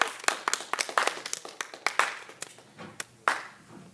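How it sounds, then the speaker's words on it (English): Sparse clapping from a small classroom audience at a student debate, a handful of distinct close claps that thin out and stop. "Let's go ahead and give a round of applause to our second speaker"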